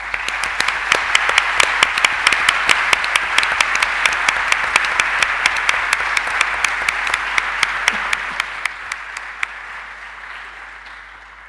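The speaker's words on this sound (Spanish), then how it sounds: "Y yo les pido para todos ellos un gran aplauso ahora." Sustained audience applause at a law lecture, a dense wash of many hands with sharp individual claps standing out, steady for several seconds before thinning and fading out near the end.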